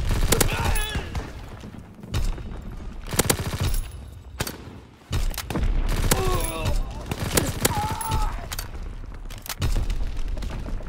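Rapid gunfire and booms in Call of Duty WW2, dense bursts of loud shots and blasts repeating through the whole stretch, with shouted voices in between.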